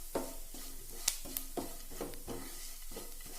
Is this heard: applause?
no